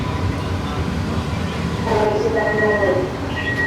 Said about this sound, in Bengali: শ্যামনগরে 3 নম্বর প্ল্যাটফর্মে ট্রেন প্রবেশ করেছে